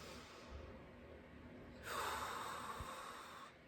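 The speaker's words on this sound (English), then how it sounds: "Let's take some deep breaths" A single slow, deep breath during a guided calming exercise, close and quiet, with a long soft inhale or exhale of airy hiss and no talking.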